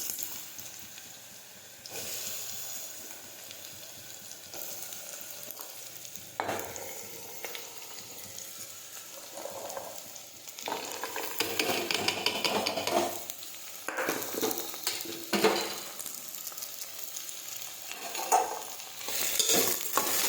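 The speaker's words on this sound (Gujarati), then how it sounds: "હવે આપણે તેમાં રાઈ અને જીરું નાખી દઈશું સમારેલી દૂધી નાખી દઈશું" Chopped bottle gourd hits hot oil with mustard and cumin seeds, frying in a steady close sizzle and hiss with occasional stirring scrapes and louder bursts as it is tossed.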